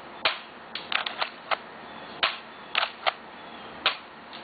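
Sharp airsoft shots from a cheap MasterKey shotgun firing 0.20 gram BBs at a target 75 feet away, about ten crisp snapping pops at an irregular pace, close and clear with no talking.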